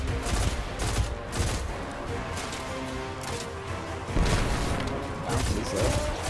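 Rapid bursts of gunfire and explosive booms from a grenade launcher in the shooter game Destiny 2, dense and loud throughout with heavier impacts near the middle and end.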